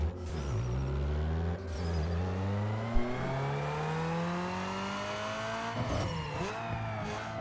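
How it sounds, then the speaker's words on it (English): A Ford Focus 2.0L I4 engine in Need for Speed Underground 2 revs on a dyno, its loud tone climbing steadily through the gears with brief shift dips, then dropping near the end. "let's quickly do a dyno so I can show you guys just how much power it has"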